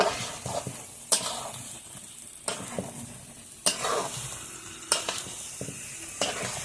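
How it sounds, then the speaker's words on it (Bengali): Fried potatoes and pointed gourd are sautéed in a pan for an egg korma, with a constant sizzle broken by sharp, regular scrapes of stirring about every second or so. "এখন আলু পটলটাও ভালোভাবে কষিয়ে নেব।"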